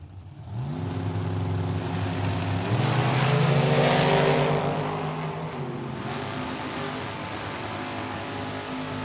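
A dragster and a Camaro launch side by side at Tucson Dragway, a loud engine roar climbing in pitch through rising sweeps, peaking, then easing off into a steady drone.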